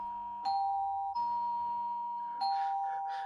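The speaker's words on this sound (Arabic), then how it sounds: "ده جرس الباب بيضرب، يكونوش رجعوا تاني" Doorbell in an Egyptian radio drama: two sustained electric bell tones ring in a row, clear and close, with a pause between them and a third ring starting near the end.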